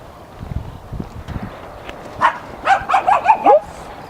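A dog behind a suburban fence lets out a quick run of five or six loud, close barks after some scuffling and thumping.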